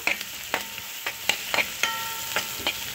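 Tomatoes frying with garlic in a pan for a Malabar spinach and peas stir-fry, a steady close sizzle broken by clicks and scrapes of stirring.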